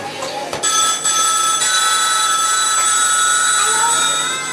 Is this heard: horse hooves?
no